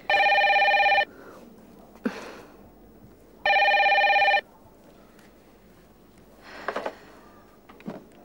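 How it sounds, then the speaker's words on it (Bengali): A telephone bell rings in a Bengali TV serial scene: two long, loud electronic rings separated by a pause, followed by faint rustling and handling noises. "জরুরি ফোন বেজে চলেছে"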